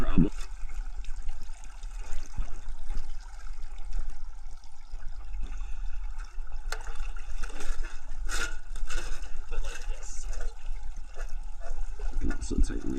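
Water runs steadily through a gold prospecting setup in the California Mother Lode, a close, continuous trickling and rushing with occasional splashes, while someone talks intermittently over it.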